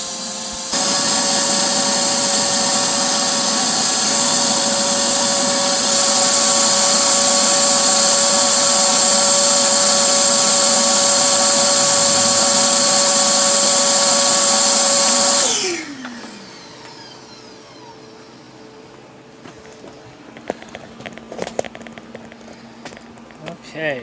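A vacuum cleaner runs loud and steady on a thick, caked-dirty central air conditioning unit, a sustained motor whine that winds down sharply, followed by scattered handling clatter.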